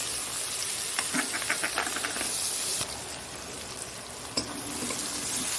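A steady hiss of onion and green chili frying in hot oil with five-spice seasoning, over a very low gas flame, with a few soft stirring clicks and scrapes close by.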